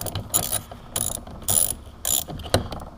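A ratchet fitted with a 9/32 socket backs out the small bolts holding a rear door handle on a 2007–2013 Chevrolet Silverado or GMC Sierra, giving several close bursts of rapid metallic clicking separated by short pauses.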